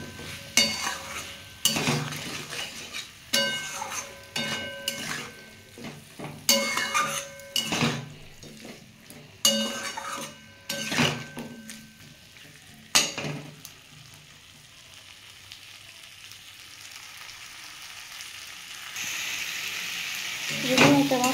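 Rohu fish curry with fried potatoes and green chilies is sautéed in a pan, with a utensil scraping and clattering in repeated strokes over a soft sizzle. The stirring stops partway through, leaving a quieter simmer that brightens into a louder hiss near the end.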